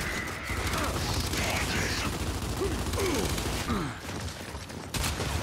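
Weapon reload mechanism in Gears 5 multiplayer, a string of short metallic clicks and ratcheting clacks over dense, continuous game noise and distant gunfire throughout.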